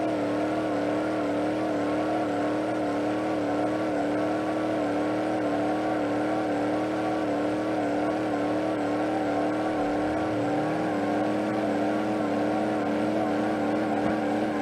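A supercharged car engine in BeamNG.Drive holds a steady, droning rev with strong harmonic whine, close and continuous throughout, with a brief rising tone near the end.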